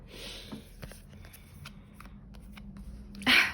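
Tarot cards being shuffled by hand during a reading, a soft continuous riffling and sliding of card stock with a few brief taps, ending in a louder burst of card noise near the end.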